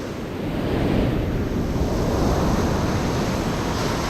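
Ocean surf breaking on a beach, a loud, continuous rumbling wash of waves with heavy wind buffeting, close to the microphone and without voices.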